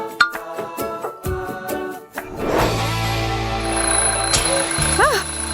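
An alarm clock rings indoors in the morning with a rapid, repeated ringing, followed by a steady electronic buzz and tone that hold for several seconds, moderately loud and close.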